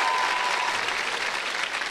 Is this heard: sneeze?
no